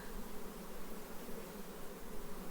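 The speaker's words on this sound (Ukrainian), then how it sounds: "Бджола коржом сидить. Ну, як роєва." Honey bees clustered on the comb like a swarm hum in a steady, dense drone, close and even, with no voices over it.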